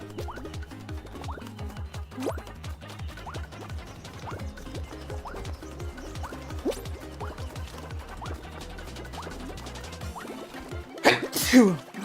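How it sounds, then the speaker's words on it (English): A single sharp sneeze bursts out near the end, loud and close, over a busy background of game music and sound effects. "I sneezed!"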